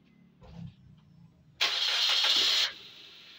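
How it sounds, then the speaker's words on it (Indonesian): Suzuki Ertiga engine cranking and catching, a loud burst of starter and ignition after a quiet lead-in, running steadily for about a second before dropping to a softer idle. "Itu dia, mesinnya nyala."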